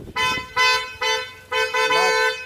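A newly installed aftermarket horn on a Hyundai Verna car honks four times in short, evenly spaced blasts. The blasts are loud and close and sound alone.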